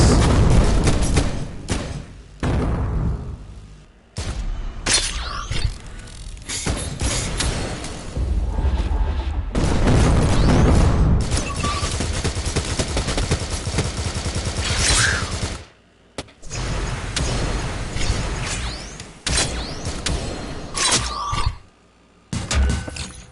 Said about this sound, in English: Get out of the way of those missiles.